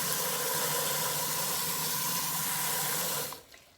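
Tap water runs steadily over drained cooked ground beef held above a pan, a continuous close hiss of flowing water that cuts off just before the end.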